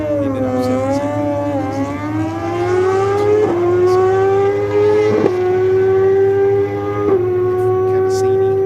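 A drag racing car with a big-cam engine approaches at Sydney Dragway, its rising, lumpy engine note swelling louder over several seconds with sharp upward revs, while a commentator talks over it.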